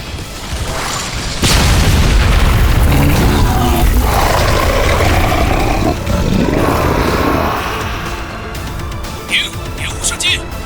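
A laser cannon charges and fires in a Chinese sci-fi space animation, producing a loud, close, rumbling boom that holds and roars for several seconds before trailing off, with voices heard alongside it.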